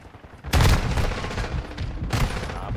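Shotgun fire in the video game Call of Duty Modern Warfare 2 with a Lockwood 300, two loud, sharp blasts about a second and a half apart, each followed by a ringing tail of echo and clatter.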